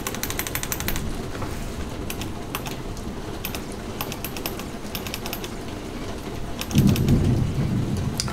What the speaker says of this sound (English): I heard that thunder, so you guys definitely did.